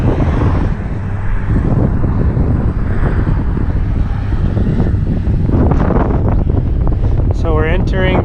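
Strong headwind roaring across the microphone while cycling on a road in northern Argentina, a loud continuous buffeting rush throughout, with a brief voice near the end.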